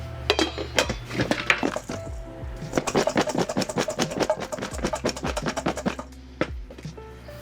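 Seasoned croutons dusted with cayenne pepper shaken in a container, a close run of rapid rattling, clinking taps that pause briefly before a few final shakes, with no talk.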